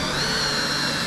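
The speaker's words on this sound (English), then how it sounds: "Let's just drill into my brand new trailer deck." A steady, high-pitched motor whine from a power drill boring into a new trailer deck runs loudly and unbroken, close by.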